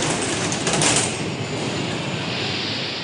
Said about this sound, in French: tous les invités sont arrivés en métro